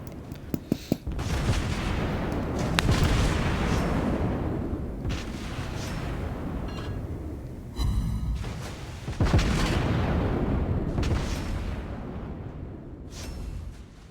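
Main-battery salvos from the USS Cleveland cruiser in World of Warships Blitz, a naval combat game: heavy booming gunfire rolling continuously, with sharp reports near the start and around the middle and long rumbling tails between them.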